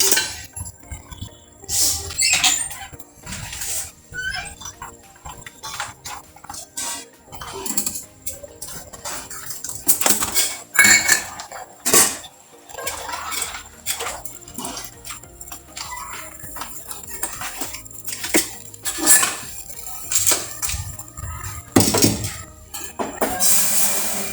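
A kadai pan and other metal cookware clank and clink on a stove in scattered bursts, with sharp close knocks and rattles over a quiet kitchen background.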